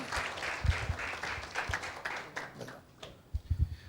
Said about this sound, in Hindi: एक जोरदार ताली देते हैं परमेश्वर की महिमा के लिए